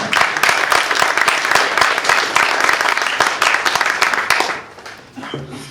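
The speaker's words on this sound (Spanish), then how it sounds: "Denle un aplauso al Señor, vamos." A church congregation applauds steadily during a sermon, a dense patter of many hands clapping close by, fading out near the end.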